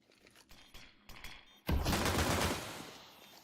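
Dual pistols fire in a competitive tactical shooter game match during a bomb-plant round, with a few scattered shots followed by a loud, dense rapid volley that tails off gradually.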